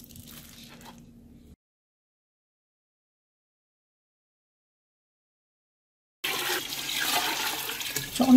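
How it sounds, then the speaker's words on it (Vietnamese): Running cold water gushes and splashes steadily over beef bones for a couple of seconds at the end, after a short earlier burst and a long silent gap. "Giờ tôi mang xương bò ra xả nước lạnh thật sạch."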